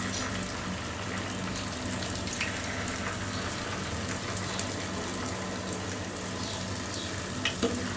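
Pumpkin and flour chips fry steadily in hot oil, a dense continuous sizzle with faint crackles and a few light clinks of utensils near the end.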